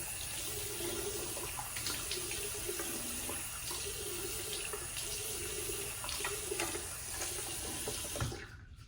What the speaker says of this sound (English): I'm going to wet my face here.